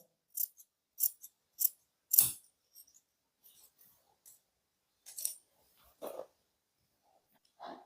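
Scissors cut fabric for a kameez in a series of short, crisp snips, close and fairly quiet, with gaps of silence between them and a couple of duller rustles of handled cloth. No voices.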